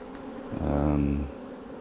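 Honey bees buzz at a weak hive during a December bee yard inspection, one close, low drone rising and fading over about a second against a quiet background.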